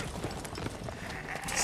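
A horse in The Witcher III video game clip-clops along in a quick, continuous hoof rhythm at moderate volume, with faint game ambience behind it.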